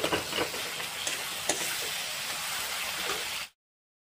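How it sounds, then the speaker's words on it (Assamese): Masala spices and tomatoes fry for an egg bhurji curry, a close, steady sizzle with a few sharp stirring clacks, ending abruptly in silence. "মছলাখিনি ধুনীয়াকৈ ভাজি ল'লোঁ আৰু বিলাহীখিনি ধুনীয়াকৈ ভাঙিছোঁ"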